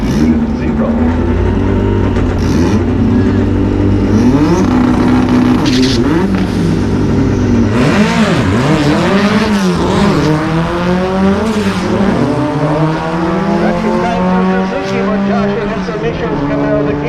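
Stick shift drag race cars launch hard from the line, engines revving and climbing through gear changes with rising and falling whines, loud and sustained under a commentator's voice.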